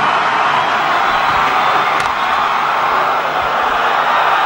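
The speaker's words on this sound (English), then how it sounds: "The crowd are up again." A large cricket crowd at an India v Pakistan match roars and cheers continuously in a broad, loud wash of sound with scattered whoops, from a stadium during the Lakshman innings.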